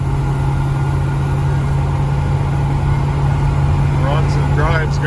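A 1972 Chevrolet K10 truck engine running while driving, a steady loud low drone with a constant hum heard from inside the cab, with a voice talking briefly near the end.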